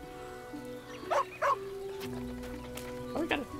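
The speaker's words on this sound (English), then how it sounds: "Oh, we got a dog at our camp." A dog at the camp in the video game Baldur's Gate 3 gives a few short barks and yips, two close together and one more a moment later, over a steady ambient drone.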